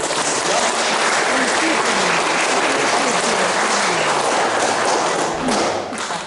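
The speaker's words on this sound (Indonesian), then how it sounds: "Mari kita semua tepuk tangan untuk" Wedding guests applaud the newly married couple after a church ceremony, sustained dense clapping filling the room steadily for several seconds, with a faint low tone running underneath and the clapping tapering slightly at the end.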